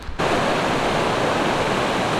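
A waterfall roars near a creek crossing on Lostland Run Trail in Maryland, a loud, steady broadband rush of falling water that begins abruptly and fills the whole clip with no talking.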